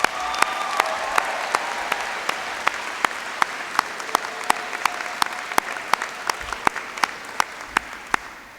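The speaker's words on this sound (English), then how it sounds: "another big round of applause for our award winners" Steady applause from a large audience at the Longwood University convocation, honoring award winners; dense, continuous clapping holds at an even level for several seconds and is marked by sharp, louder claps rising above the wash.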